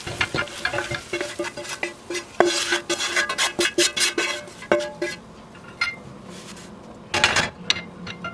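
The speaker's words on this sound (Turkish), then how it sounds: "Karıştırarak servis tabağına alalım." Buttered liver dusted with thyme is stirred in a pan, a utensil scraping and clinking against the metal over a soft sizzle, with irregular loud strokes before it is moved to a serving plate.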